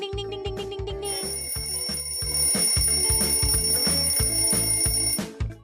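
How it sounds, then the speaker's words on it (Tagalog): Alarm clock ringing in rapid, repeated electronic beeps in a steady bright pattern, loud and close, going on throughout with no talk over it. "That's the alarm clock."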